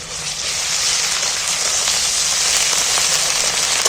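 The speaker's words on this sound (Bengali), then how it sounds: "তেলের মধ্যে তেলের মধ্যে নাড়াচাড়া করে ভেজে নিন" Ginger-garlic paste frying in hot oil for an egg and onion dish, a steady loud sizzle and crackle that holds evenly throughout with no talking.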